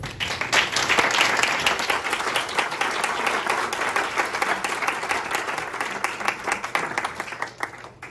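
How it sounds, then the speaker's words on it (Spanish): Sustained applause from an audience at a book presentation, a dense, loud crackle of many hands clapping at a steady level, thinning slightly toward the end. "un aplauso para ustedes."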